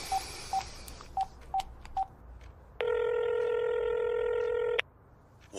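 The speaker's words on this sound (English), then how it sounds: "I'll make some phone calls" A telephone is dialed in a radio drama: five short, evenly spaced touch-tone beeps, then a steady two-second tone on the line, clear and close with no voices.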